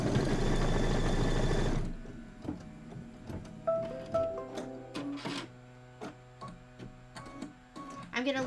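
A sewing machine stitching a placement line on a quilt, heard as a loud continuous run of rapid stitching that stops abruptly, followed by quieter intermittent clicks and handling sounds.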